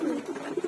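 Domestic pigeons coo softly nearby in a short burst of low, pulsing calls, with no other sounds present.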